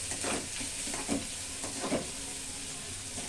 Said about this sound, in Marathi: कांदा परतून घेताय काय कांदा परतून